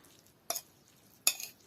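Five heads of garlic are grated by hand in a home kitchen, heard as two short, faint rasping strokes separated by quiet.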